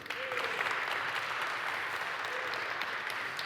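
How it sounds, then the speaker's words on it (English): An audience claps steadily and densely at a printing and packaging technology conference in Valencia, the applause loud and sustained throughout with no voices over it. "That was a louder clap for Marcus than when I came on"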